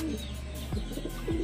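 Racing pigeons coo softly and repeatedly nearby, low throaty calls rising and falling, with faint chirps and a steady background hum.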